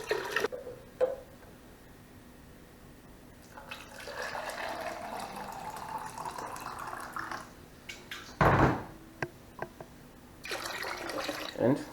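Water poured into a vessel while brewing lime beer, a rising fill sound with splashes and drips, quiet and close, broken by a couple of louder bursts and brief pauses.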